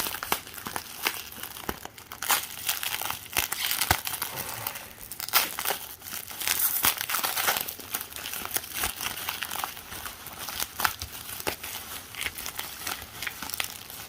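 Newspaper packing paper crumpled and crinkled while a Centurions Ace McCloud toy is unwrapped, a close, continuous rustling scattered with sharper crackles and snaps, with no talking.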